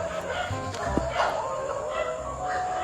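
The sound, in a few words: dogs barking and whining at night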